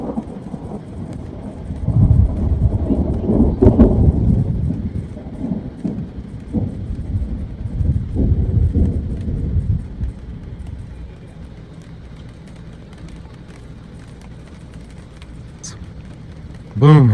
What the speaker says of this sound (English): Just sitting here enjoying this lightning storm